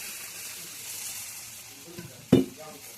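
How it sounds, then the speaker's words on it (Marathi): Milk is poured into sheera cooking in a pan, setting off a sudden loud sizzle and hiss near the end after a steady, quieter frying crackle. "आता ह्या स्टेजला मी थोडंसं दूध ॲड करते."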